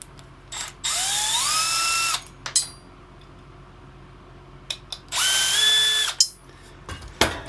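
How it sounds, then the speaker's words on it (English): A power drill backing screws out of a charger shelf, with two sustained whirring runs, each rising in pitch as it spins up, separated by quiet gaps and small clicks and handling knocks nearby. "But I will be taking these screws out"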